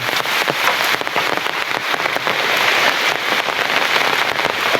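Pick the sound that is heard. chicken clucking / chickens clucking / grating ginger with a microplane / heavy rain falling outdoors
heavy rain falling outdoors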